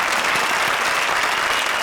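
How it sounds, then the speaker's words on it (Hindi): A studio audience on a TV comedy show breaks into loud, dense applause for a pair of performers, a continuous close wash of clapping with no pauses. "जोरदार तालियां निगार और राजा के लिए।"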